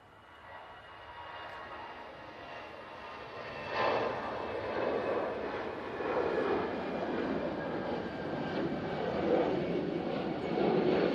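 An Airbus A319 airliner on its takeoff roll at Manchester Airport gives a distant, building engine rumble that rises after a few seconds and holds at a moderate, steady level.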